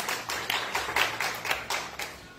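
A small group at a church discipleship training session claps in a quick, fairly regular rhythm, about four claps per second. The claps are moderately close and clear, with no talking over them.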